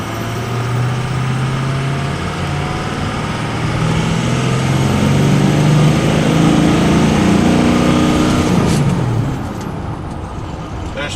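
A Ford F250 engine runs close by, loud and steady, with a deep hum under a broadband roar, plus a rising whine near the end.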